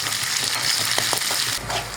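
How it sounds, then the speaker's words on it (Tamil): Small onions and curry leaves sauté in hot oil in a pan for kara kuzhambu, giving a steady bright sizzle and crackle with a few spoon-stirring scrapes near the microphone. "வெங்காயம் நல்லா வதங்கிடுச்சு."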